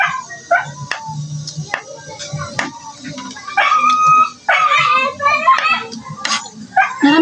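A dog barks and yips repeatedly, a few sharp barks then a run of howling yelps, with someone talking over it nearby.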